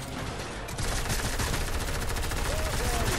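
Drum gun firing in Fortnite, a dense rapid burst of automatic gunfire that keeps going without pause and gets slightly louder partway through.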